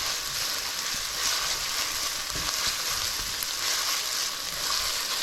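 Chopped onions sauté in a hot pan for Hungarian beef meatballs, giving a steady close sizzle and crackle with faint stirring scrapes underneath and no talking.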